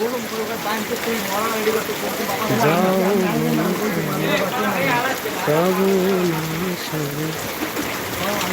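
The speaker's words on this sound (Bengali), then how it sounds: "বৃষ্টি" Steady rain pours down during a stormy rainy day, a constant broadband hiss throughout, with a voice sounding clearly over it.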